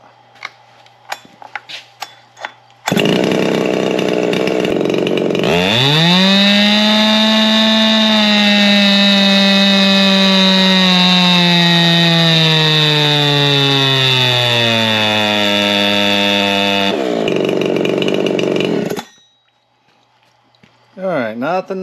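Ported Husqvarna-style G372 chainsaw revving hard: a loud, sustained high-pitched engine wail climbing and holding near wide-open throttle for about twelve seconds before dropping off, with brief idle and quiet moments around it.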